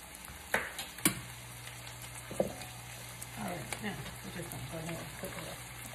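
Vegetables with snow peas and kelp noodles stir-frying in a pan, a steady close sizzle punctuated by a few sharp clatters and stirring scrapes, with a faint low hum beneath.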